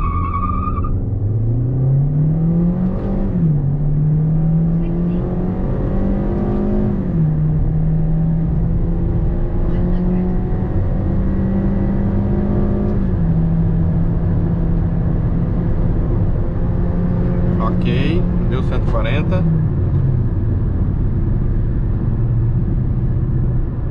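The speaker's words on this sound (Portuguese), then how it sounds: "Vou fazer dois 0 a 100, só para vocês terem uma ideia e noção aí do que o carro pode apresentar" A Hyundai Elantra 2.0 with 178 hp accelerates hard from a standstill in manual mode, its engine note climbing through gears with clear shift drops, loud and steady from start to finish with no talking.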